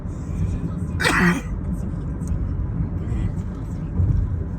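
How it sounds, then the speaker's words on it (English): A single cough bursts out about a second in, short and fairly close, over steady background noise and traffic-like rumble. "Coughing all on the video."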